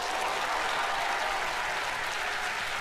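Studio audience at the magic competition show Penn and Teller Fool Us bursting into steady, dense applause that holds at an even level throughout, with faint crowd murmur mixed in.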